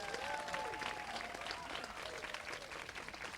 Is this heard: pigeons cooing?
no